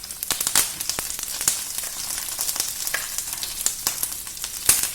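Dried red chillies and curry leaves sizzle and spit in hot oil in a pan. The crackling is steady and close, with sharp pops scattered throughout.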